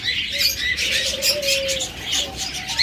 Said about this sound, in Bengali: এটাও কিন্তু রানিং পেয়ার হাই মিউটেশনের পাখি